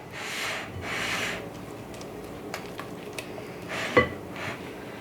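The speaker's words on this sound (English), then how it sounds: "Scrape down your bowl." A spatula scrapes around a mixing bowl of graham cracker dough with soft rubbing strokes, plus a few light clinks and one sharper knock against the bowl, close and fairly quiet.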